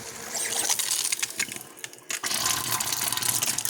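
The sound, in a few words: water running through new replacement filter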